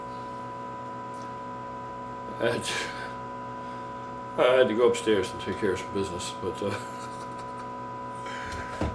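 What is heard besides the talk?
drone of a large well pump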